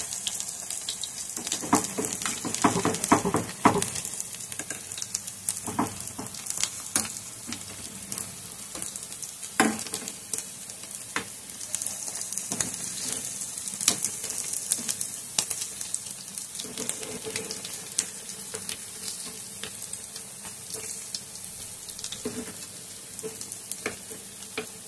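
Mumbai-style ragda patties fry in a pan with a steady, close sizzle and spatter, crackling bursts and occasional scraping as they are turned, continuing throughout with no voices.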